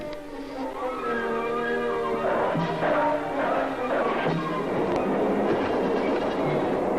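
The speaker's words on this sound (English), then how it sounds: "The locomotive chase starts all over again in the opposite direction." Steam locomotive chase from the 1927 silent comedy The General, heard as a steady rolling train rumble with rhythmic clickety-clack under a continuous musical score, loud and sustained throughout.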